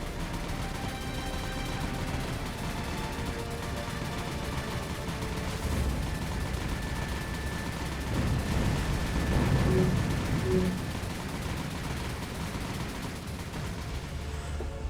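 Aircraft strafing gunfire rakes enemy ships in War on the Sea, a steady rattling fusillade, mid-distance and moderately loud throughout, swelling into heavier bursts and impacts near the middle.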